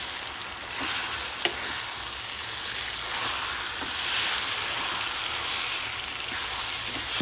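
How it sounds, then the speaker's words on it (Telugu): Grated mango fries in oil for a mango pulihora mix. A loud, continuous sizzle is broken by occasional scraping stirs, and no one speaks. "ఇది నూనెకి వచ్చే వరకు వేయించాలండి."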